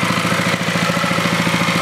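An engine runs just above idle in a steady, loud, close drone with an even pulsing beat throughout.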